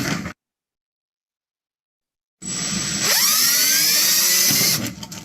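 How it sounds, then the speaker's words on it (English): A power drill pre-drills holes in upcycled material for a backpacking stove, rising into a high whining spin that holds for about two seconds and then winds down, close and loud, with no talking. "so we're going to go ahead and use a drill"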